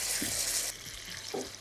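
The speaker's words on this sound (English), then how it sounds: "You're going to fry it off, you're going to get the liquid to evaporate." Chicken for shawarma fries in a hot pan, cooking off its liquid with a bright, loud sizzle that drops partway through, followed by a couple of stirring scrapes and splatters close by.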